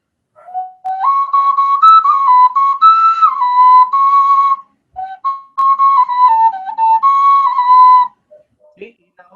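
Pre-Hispanic test whistle playing a Lakota pentatonic scale, a clear, loud, breathy tone stepping between pitches in two sustained phrases split by a short pause.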